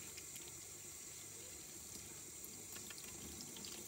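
Tap water runs steadily as oyster mushrooms are washed at a kitchen sink, a constant hiss and splash at moderate level with no speech.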